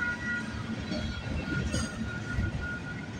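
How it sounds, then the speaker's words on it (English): A train rolls past the rail line at Bartlett Avenue in Toronto, a loud, close, continuous rumble of railcars with wheel squeal and a hint of clickety-clack, and no voices. "I don't even know what this train could be."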